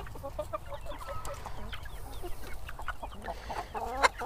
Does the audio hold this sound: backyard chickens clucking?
yes